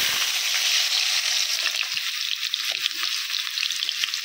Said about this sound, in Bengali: তো আমি এখন আলুগুলো ভেজে নিব। তেল গরম হয়ে গিয়েছে।